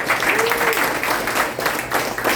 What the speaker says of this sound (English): Hey guys, give him a round of applause.